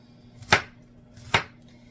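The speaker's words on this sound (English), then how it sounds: "I'm going to take all my cauliflower pieces as I cut them up" A knife chops through cauliflower on a cutting board, cutting it into bite-sized pieces: two sharp, distinct thuds about a second apart, close and clear against a quiet room.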